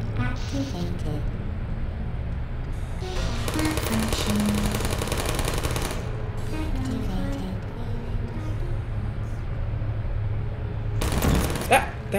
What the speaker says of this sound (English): That stupid turret ruined my shot